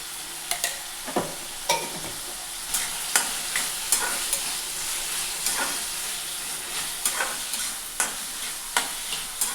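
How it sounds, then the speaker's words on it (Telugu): Dried red chillies fry in oil with a steady sizzle, broken by repeated sharp scrapes and clinks of a stirring spoon against the pan, close and fairly loud, with no talking. "ఏందో నేను ఆయిల్తోనే వేపుకుంటాను"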